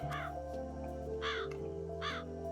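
Crows in the video game Calico give three separate harsh caws, evenly spaced, loud and clear over a steady droning music bed.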